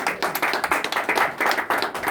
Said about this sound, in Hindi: ये बात निश्चित तौर से ताली बजाने वाली है